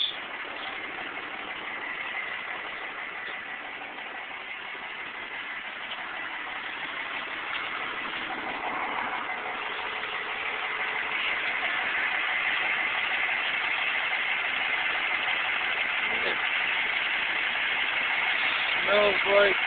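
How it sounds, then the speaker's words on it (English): Dodge Cummins diesel truck running on waste motor oil idles with a steady, even drone that grows slightly louder toward the end, heard outdoors with a person talking over it. "It's going to get a little noisy now when we get closer to the engine."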